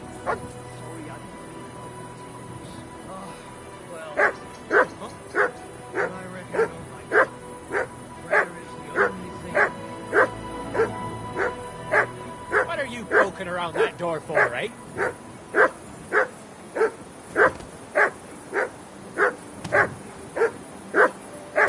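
A dog in the video game Kingdom Come: Deliverance II barks in a long steady series of sharp, evenly spaced woofs, close and loud, with a brief flurry of yips midway; someone speaks briefly near the start.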